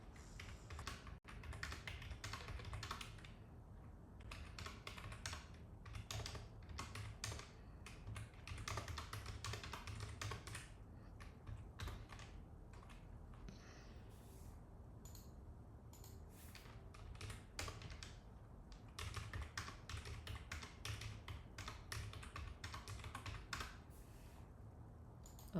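Rapid, steady tapping of small keys as a data set is typed into a calculator, close and quiet, with brief pauses between bursts of presses.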